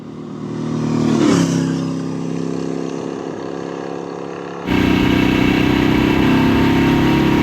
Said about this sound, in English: there's so much character in that Bevel-Drive engine